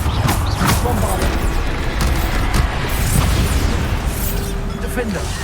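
Bombarda spell blasts in Hogwarts Legacy, loud booming bursts and rumbling debris in a dense continuous barrage.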